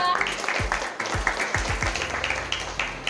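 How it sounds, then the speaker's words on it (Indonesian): A small group claps in a classroom, the individual claps audible and somewhat uneven, with a voice speaking briefly at the start. "Tepuk tangan untuk kelompok 2."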